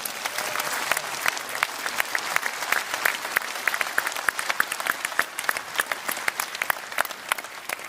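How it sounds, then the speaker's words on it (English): A crowd at a Reform political rally in Leeds bursts into sustained applause, dense rapid clapping filling a large hall for the whole stretch, with faint voices under it. "I want a massive round of applause for everyone that's decided to do that"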